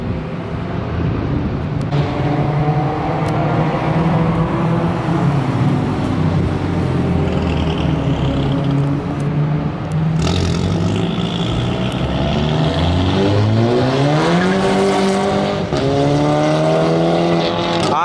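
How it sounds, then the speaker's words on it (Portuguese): Renault Twingo Turbo pulling away and accelerating, rising engine tone climbing through gears, loud and nearby, over crowd and street noise. "Caraca, um Twingo Turbo."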